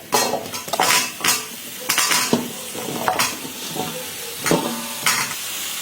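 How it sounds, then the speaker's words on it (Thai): Pumpkin being stirred into freshly made curry paste in a pot, with repeated scraping and clinking of a spoon against the metal and a soft sizzle underneath, close and loud in irregular strokes. "แล้วก็จะคนให้เข้ากันค่ะ"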